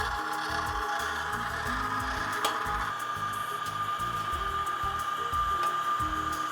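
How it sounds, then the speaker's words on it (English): An electric meat grinder runs steadily, grinding meat for homemade kielbasa, with a continuous motor whine and irregular low churning and thumping as the meat feeds through, fairly close and without voices. "I'm going to turn my grinder on here"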